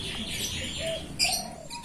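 A zebra dove (perkutut) chick giving a few short, soft chirps up close against a steady background hiss.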